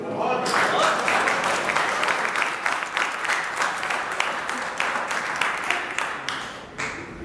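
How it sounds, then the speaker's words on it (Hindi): An audience at a general meeting claps in dense, sustained applause, many hands close and loud, with a voice talking over it before it trails off near the end. "आप अपनी ताली दिल खोल के एक बार बजाइए"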